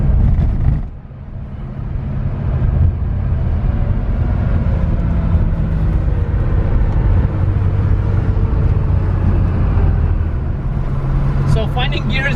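A 1981 Porsche Super Carrera with a 915 gearbox drives along, heard from inside the cabin as a loud, steady engine drone with a low hum throughout.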